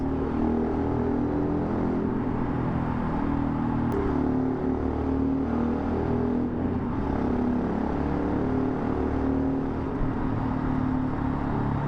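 A Yamaha Tenere motorcycle running steadily on the road, with a constant close engine drone and wind rumble carrying on without a break and no talking.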